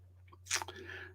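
An old dog chewing a hard milk bone treat, a brief quiet crunch followed by soft gnawing, faint and close with a low steady hum underneath.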